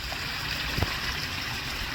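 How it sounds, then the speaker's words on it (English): Water pouring down a small koi pond waterfall, a soft continuous trickle and splash heard at a steady low level with no talking. "Look at the waterfall there."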